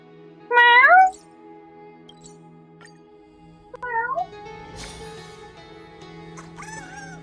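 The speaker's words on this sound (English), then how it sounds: "My cat is meowing at me." A domestic cat meows three times, close and fairly loud. The meows come in separate bursts near the start, the middle and the end, with quiet room tone between them and no talking.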